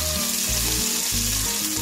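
Lamb meat sautés in a deep pot, giving a loud, steady sizzle and crackle with a few soft stirring scrapes, close and without speech.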